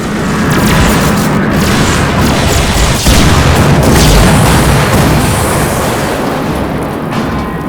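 Continuous roaring barrage of starship weapons fire and explosions in a Star Trek video game, loud and dense throughout with a heavier boom about three seconds in.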